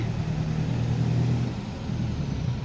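Small chainsaw engine on a carburetor fuel-pump setup runs at a steady idle, a continuous low, close rumble with no talk over it.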